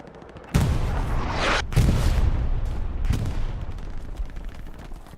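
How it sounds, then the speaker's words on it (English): Artillery fire in the World War II shooter Hell Let Loose on the Carentan map, several heavy booming blasts in quick succession followed by lingering rumble and distant crackling gunfire. "those guys are just getting farmed by the artillery"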